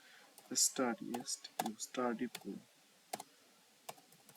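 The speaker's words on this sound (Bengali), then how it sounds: "স্টাডি পুল লিখে এন্টারে চাপ দিলাম।" Laptop keyboard being typed on in short bursts of clicks, ending with a press of Enter, heard close and quiet amid a person talking.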